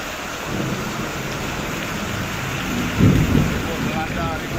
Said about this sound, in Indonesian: Rebut melanda, rebut.